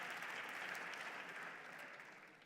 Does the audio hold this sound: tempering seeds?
no